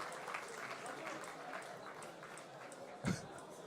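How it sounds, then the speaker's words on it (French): An audience at a festival awards ceremony applauds with soft, distant, steady clapping and a faint murmur throughout, plus one brief low thump near the end. "Merci de les applaudir comme il se doit, s'il vous plaît."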